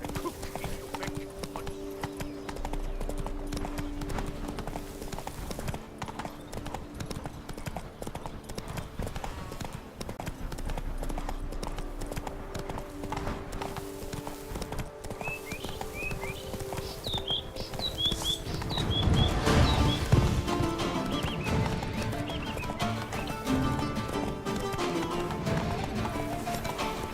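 Roach, a horse in the video game The Witcher 3: Wild Hunt, gallops with a steady clip-clop of hooves over a continuous ambient bed, and a brief whinny rises near the end.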